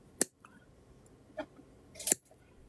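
Wire cutters snipping jewelry wire for wire-wrapped lotus earrings, three sharp close clicks separated by short pauses, the last one loudest, with no talking.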